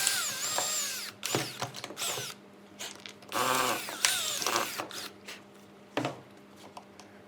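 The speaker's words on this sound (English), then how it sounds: "The battery drill with a drill bit can get any of the little awkward bits out." A battery drill fitted with a drill bit whines in several short bursts as it bores out leftover skirting board remnants, loud and close with brief pauses between runs.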